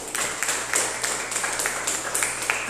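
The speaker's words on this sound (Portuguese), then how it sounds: "As palmas podem louvar a Deus." Church congregation clapping in steady rhythmic unison during an evening worship service, a sustained run of even claps filling the room at moderate volume, with no talking over it.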